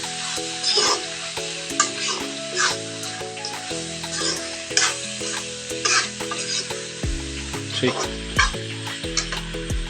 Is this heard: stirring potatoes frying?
yes